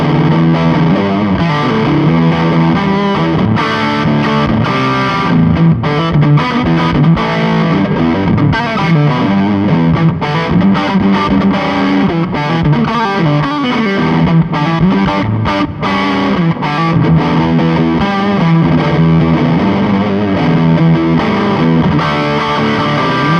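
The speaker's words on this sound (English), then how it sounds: "Gives you a nice kind of thick, crumbly fuzz sort of rhythm sound." Electric guitar through a B.K Butler Tube Driver pedal with bias knob, chugging a thick, crumbly, slightly unpredictable fuzz rhythm; loud, dense and continuous with steady strummed chords and no voices.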